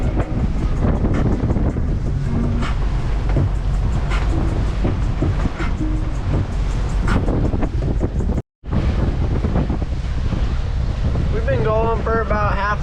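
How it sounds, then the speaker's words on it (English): Strong wind gusting over open water near sailboats in Jupiter, Florida, roaring steadily into the microphone with a brief dropout and a voice speaking faintly underneath. "But the wind's blowing today, so they got a lot of wind in their sail."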